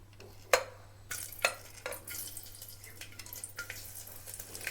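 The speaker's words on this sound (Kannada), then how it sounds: "ಆಮೇಲೆ ಇವಾಗ ನಾನು ಇದಕ್ಕೆ ಮೊದಲಿಗೆ ನಾನು ತೊಗೊಂಡಂಥ ಮಸಾಲೆ ಹಾಕೋತೀನಿ" Spices tipped into hot cooking oil in a pressure cooker for palak pulao: a soft sizzle with close stirring scrapes and a few sharp knocks against the pot.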